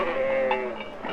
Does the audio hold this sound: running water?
no